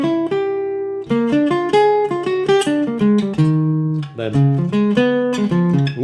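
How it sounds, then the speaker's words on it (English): Dominant seventh chord arpeggios played over jazz II-V chord changes: a run of clear, evenly spaced melodic notes climbing and falling above sustained lower chord tones, loud and continuous with no talking. "If I just use the 7th chord arpeggio, it sounds like this."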